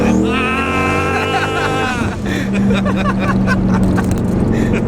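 A 1000 horsepower turbo Trans Am WS6 accelerates hard, its loud engine note climbing in pitch, then settling into a heavy steady drone heard from inside the car, with voices faintly mixed in.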